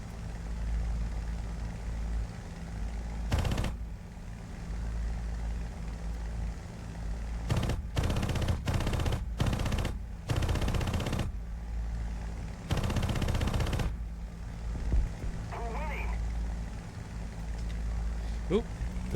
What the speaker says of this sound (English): A few bursts of 12 303 machine guns seems to do the trick